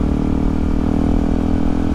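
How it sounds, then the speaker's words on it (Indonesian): A motorcycle engine drones steadily throughout, a low rumbling hum that stays close and even without clearly rising or fading. "Motor, ada motor ternyata."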